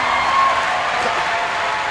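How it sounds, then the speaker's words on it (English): An audience at a leadership conference claps steadily, a dense, even wash of applause that fills the whole stretch without breaks. "I really wish you can stop clapping for a minute."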